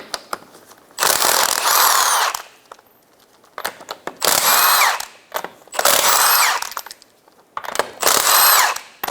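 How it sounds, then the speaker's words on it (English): An impact tool spins off the lug nuts of a 2012-2016 Subaru Impreza rear wheel with a 19mm socket, four loud, sustained whirring bursts of about a second each separated by short pauses, close up with no talk. "Use a 19mm socket and take off your 5 lug nuts."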